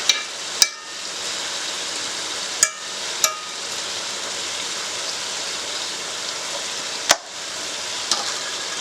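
Sun-dried tomatoes and chicken fry steadily in a skillet, a dense, even sizzle like light rain that runs throughout, punctuated by a few sharp clicks and taps of a utensil against the pan.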